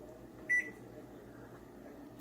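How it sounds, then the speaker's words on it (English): A kitchen timer goes off with a single short, sharp beep while a frying pan cooks on the stove. A faint, steady room hum continues before and after it, and no one talks. "Timer is going off."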